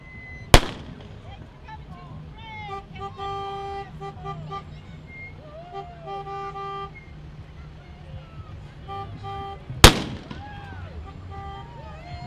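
Two sharp blank gunshots ring out from Pahrump Gunfighters Old West reenactors at a fall festival parade, loud isolated bangs about nine seconds apart amid crowd noise and a horn toot.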